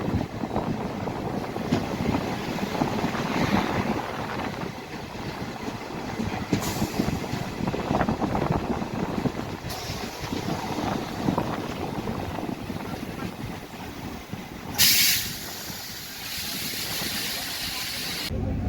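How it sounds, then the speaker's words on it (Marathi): Hadapsar–Harangul Express crossing at Dhoki railway station, a steady loud rumble of train wagons rolling past close by, with brief sharp bursts of noise breaking in around the middle and near the end. "ढोकी रेल्वे स्टेशनवर आपल्याला हडपसर हरंगुळ एक्सप्रेस क्रॉसिंग होत आहे सध्या"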